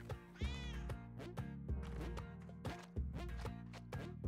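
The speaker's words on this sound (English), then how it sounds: "Hey, kitty?" A cartoonish cat meows in the video game Spelunky 2, a short rising mew near the start amid busy game music and repeated percussive hits, fairly loud and upfront.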